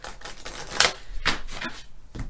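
Tarot cards being shuffled by hand, a series of soft riffling and slapping bursts close to the microphone with one sharper flick near the middle and no voices.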